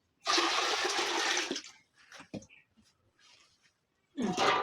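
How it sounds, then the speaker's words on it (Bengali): Water is poured into a cooking pot for boiling pitha, heard as a loud rushing pour lasting about a second. It is followed by brief knocks and quieter splashes, then a second burst of pouring at the end. "পিঠে সিদ্ধ করার জন্য হাঁড়িতে পানি দিয়ে দেবো।"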